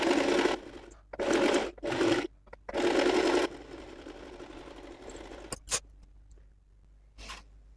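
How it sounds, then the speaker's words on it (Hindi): Sewing machine stitching the collar of a high-neck blouse in several short bursts of whirring separated by pauses, followed by quieter clicks and handling of fabric. "इस साइड से हम इसको स्टिच लगा लेंगे"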